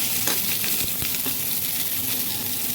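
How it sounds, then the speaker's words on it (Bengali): Pointed gourd (potol) frying in hot oil in a home kitchen, a steady close sizzling hiss with scattered crackles and pops throughout. "এবার আমি পটলটা ভাজতে দেবো। পটলটা লাল লাল করে ভেজে তুলবো।"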